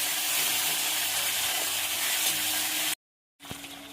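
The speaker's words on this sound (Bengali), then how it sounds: "মাছের তেলটা ভালো করে পেঁয়াজের সঙ্গে কষিয়ে নেব।" Chopped onions sizzle loudly and steadily as they are stir-fried in fish oil for a cabbage dish, a dense close-up hiss that cuts off abruptly, then returns more quietly.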